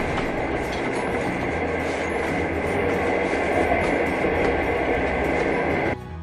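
A passenger train rolls along the rails out of Cherlapally toward Khammam, giving a loud, steady rumble with a continuous clatter heard from on board. It cuts off sharply at the very end, and no one speaks.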